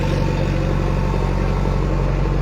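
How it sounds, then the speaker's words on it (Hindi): Tractors and a bulldozer drive one after another over standing crops in a flood-channel field at Babera, Bansur; a loud, steady low engine drone with a pulsing idle rumble fills the whole stretch, with no voices. "ये आप देख पा रहे हैं एक के बाद एक ट्रैक्टर बुलडोजर।"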